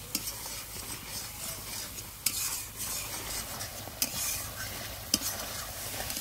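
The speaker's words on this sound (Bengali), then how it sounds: "বন্ধুরা মশলাটা খুব সুন্দর করে কষতে হবে" Spice paste with Kashmiri red chili frying in oil for a Bengali chitol fish tel jhal, a steady sizzle with a few sharp scrapes of a spoon stirring through the pan.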